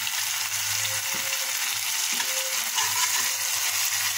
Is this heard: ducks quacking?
no